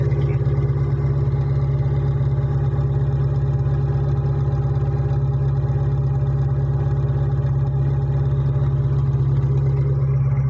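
A Volkswagen Logus idles with its final muffler removed, giving a sporty exhaust note: a steady, deep, even rumble heard close up, unchanging throughout with no talk.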